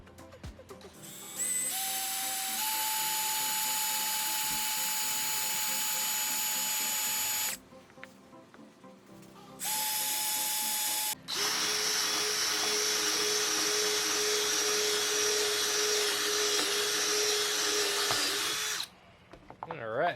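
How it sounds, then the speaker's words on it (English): A power drill with a large bit whirs loudly in several long bursts, its pitch rising as it spins up, with short quiet pauses between runs, while working on a 2021 Yamaha YZ250F. "take the big drill bit that was included with the set, put that in our drill here"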